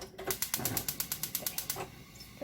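A gas stove's igniter clicks rapidly about a dozen times in a quick, even series of sharp ticks, close by and fairly quiet.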